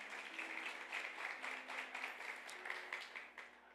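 A church congregation applauds visitors with steady, moderately quiet clapping throughout, with a faint sustained tone beneath.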